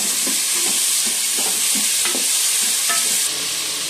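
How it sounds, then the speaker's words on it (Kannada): Tomatoes fry in a pan for a Maskayi soppu saru, a loud steady sizzle broken by repeated stirring scrapes, close up with no talking. "ಅನಂತರ ಟೊಮೊಟೊ ಹಾಕೊಳ್ಳಿ. ಇವಾಗ ಒಂದು 3-4 ನಿಮಿಷ ಫ್ರೈ ಮಾಡೋಣ."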